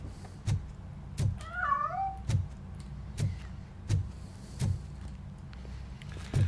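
A cat meows in RoboCop Rogue City, one clear wavering cry in the middle over a low game ambience with regular thumping footsteps.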